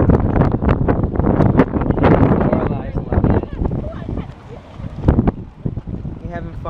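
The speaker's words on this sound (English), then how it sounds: "it's super windy" Strong gusty wind outdoors among cherry blossom trees buffets and roars against the microphone in uneven surges, with voices faintly mixed in.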